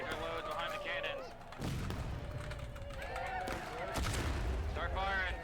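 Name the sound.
cannon and gunfire in a Civil War video game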